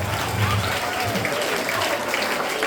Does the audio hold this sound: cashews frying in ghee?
no